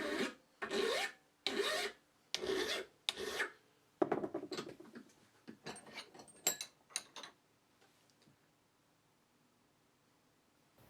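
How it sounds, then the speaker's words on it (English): Hand file rasping a broken stainless steel garden fork tine held in a vise, five strong regular strokes followed by lighter, scattered scraping strokes that fade into silence. "let's take the broken tine over to the vise and file off the parts of it that we don't need"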